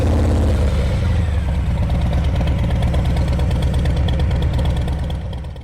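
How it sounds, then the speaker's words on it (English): A 2019 Harley-Davidson Heritage motorcycle engine runs with a steady, loud, low rumble and a pulsing idle-like throb that continues throughout, then fades slightly toward the end. "Today I'm riding my 2019 Harley Davidson Heritage."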